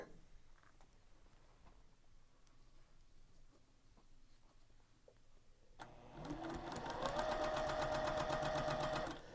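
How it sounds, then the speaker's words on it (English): A sewing machine stitches the seam of a flying geese quilt block, running in a fast, steady mechanical whir that starts abruptly after a quiet stretch and holds loud and close until it stops. "Continue sewing the seam"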